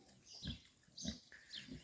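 Piglets on a small mini farm grunt in short, repeated bursts, about three or four snorting grunts, quiet and fairly close with no voices.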